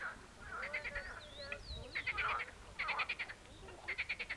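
Frogs croaking at a river pond, heard as bursts of rapid pulsed calls repeating in several groups, with chirping and murmuring voices mixed over the outdoor background.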